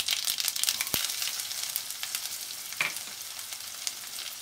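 Mustard seeds crackling and sizzling in hot oil while tempering for fresh methi dal: a dense, steady frying hiss dotted with sharp pops, close and loud, with no talk.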